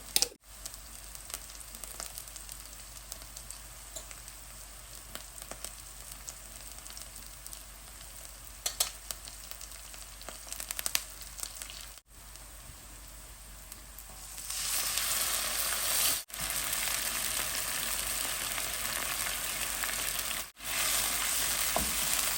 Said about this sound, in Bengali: তো এখন মশলাটা ভালো করে কষিয়ে নিচ্ছি